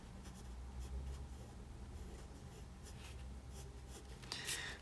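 Felt-tip or ballpoint pen drawing eye pupils on paper for a tomato emoji sketch, giving a steady, soft scratchy scribble of continuous strokes, close up and without talk.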